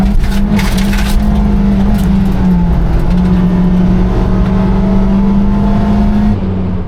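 A racing car engine in a video game roars continuously at high revs, holding a steady loud drone with slight pitch shifts, like a car pushed hard on a track.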